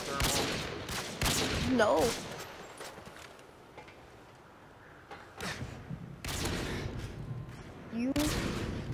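Gunfire in Modern Warfare 2 during a 1v1 quickscope match: loud clusters of sharp shots, a quieter stretch in the middle, then more bursts, with players talking over it.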